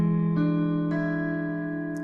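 A gospel chord shape strummed on an acoustic guitar rings out alone, picked in three staggered strokes that layer into a sustained, slowly fading chord.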